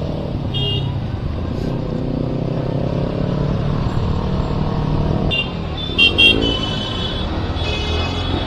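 A motorbike ridden along a road toward Nandakumar Rajbari gives a continuous engine hum with wind rumble, and short horn toots from nearby traffic break in partway through.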